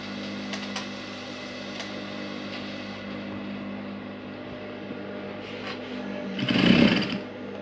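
A sewing machine stitches elastic with a steady, close whirring drone that swells louder near the end; no one speaks.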